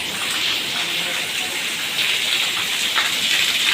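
Heavy rain pours down in a dense, continuous hiss that grows slightly stronger partway through. It sounds close and steady, with no gaps.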